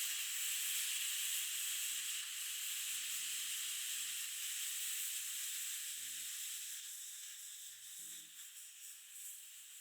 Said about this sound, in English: using a spatula, which is very safe, I'm going to lift the valve,